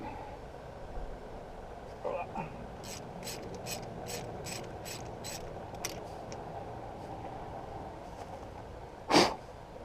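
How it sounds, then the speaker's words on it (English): A ratchet clicks in a quick run of short ratcheting strokes while spark plugs are removed from a 1954 Ford NAA Golden Jubilee tractor engine. The clicks are fairly faint and close, with a brief sniff-like noise near the end. "We're going to pull these plugs out, see how they look"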